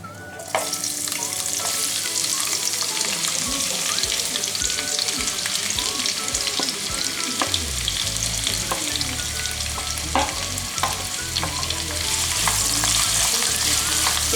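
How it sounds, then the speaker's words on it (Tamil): Onions frying in hot oil with cinnamon, cardamom and cloves for pepper chicken, giving a loud, steady sizzle throughout with repeated sharp scrapes and clinks of a stirring spoon against the pan. "இப்போ நல்லா ஆனியன்ஸ் வந்து ஃப்ரை ஆகட்டும்"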